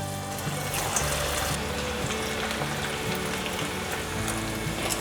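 Wheat gluten strips coated in sweet potato starch are deep-frying in plenty of hot oil in a home kitchen, giving a dense, continuous crackling sizzle that stays loud and steady throughout, with no voices.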